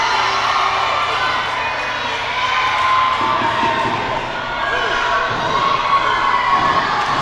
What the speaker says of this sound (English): the crowd was making so much noise